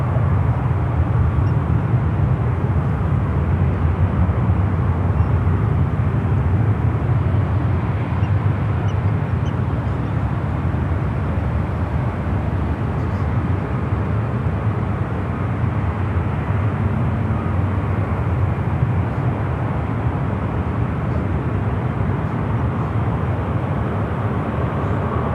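A Boeing 777 airliner on landing approach at San Francisco airport gives a steady, broad low roar of jet engines that stays constant throughout without talk.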